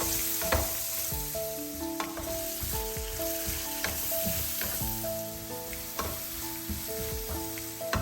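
Sliced onion and chopped garlic sauté in olive oil and butter in a pan, giving a steady, close sizzle with intermittent scraping stir clicks throughout, no voices over it.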